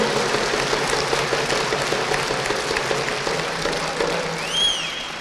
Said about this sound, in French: Je vous demande de vraiment les applaudir tous les 9